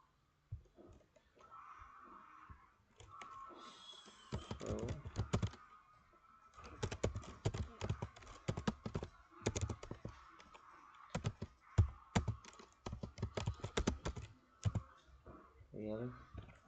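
Bursts of fast typing on a computer keyboard, close and crisp, in irregular runs with brief pauses.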